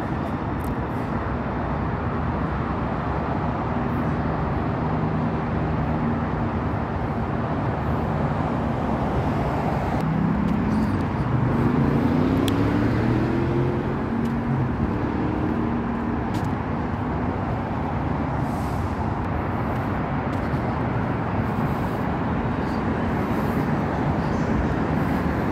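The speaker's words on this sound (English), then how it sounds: "A train." Rumbling train passing through Northgate Station in Seattle, Washington at a steady roar, with metallic squeals and screeching wheels rising in the middle before the noise evens out.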